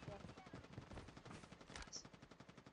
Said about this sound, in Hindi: फायरिंग आया उसका।